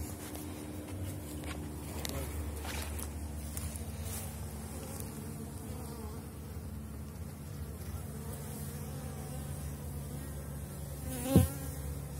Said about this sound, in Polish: tu pszczoły mają problem z tym przeciskaniem się